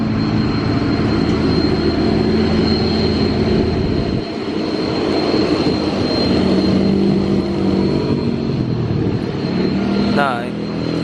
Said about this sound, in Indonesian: Nah, ini ada Fuso Fighter, muatannya cukup berat ya. Dari bawah sudah ganti gigi.